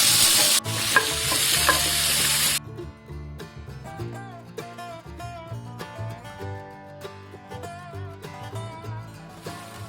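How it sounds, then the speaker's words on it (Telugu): Chopped onions and tomatoes fry for palak paneer with a loud, dense sizzle and stirring for the first few seconds. Then the sizzle cuts off and melodic music plays alone. "అలాగే ఒక 2 టమాటోస్, ఇవన్నీ బాగా వేయించుకోవాలి."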